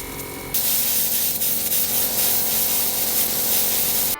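Compressed air pushes through an open sprinkler system zone while the system is blown out for winter, starting with a sudden loud rushing hiss that continues steadily for several seconds before cutting off, close and without talk.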